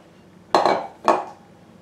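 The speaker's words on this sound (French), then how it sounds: "Je vais venir prendre un saladier. Je vais venir verser la farine." Two sharp clinks of a mixing bowl, close and clear, each trailing off briefly, come as flour is poured in. Quiet surrounds them and no one speaks.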